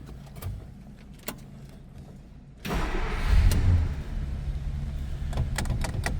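A 1950 Plymouth Deluxe two-door sedan's engine cranks briefly and fires up, then settles into a smooth, quiet, steady idle close by, with some rising low rumble just after it catches.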